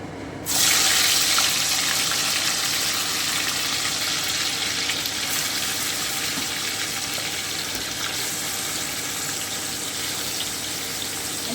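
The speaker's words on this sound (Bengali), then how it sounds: "খুব ভালো করে একটু ভেজে নিচ্ছি" Chicken pieces frying in a pan with cinnamon over low heat, a steady loud sizzle that starts abruptly and holds evenly throughout, with no voices.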